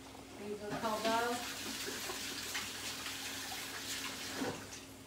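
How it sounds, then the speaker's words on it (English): Tap water runs steadily as hands are given a quick wash in a home kitchen while meatloaf and mac and cheese are being cooked, a continuous splashing hiss with a brief whistly tone near the start. "Quick wash of the hands,"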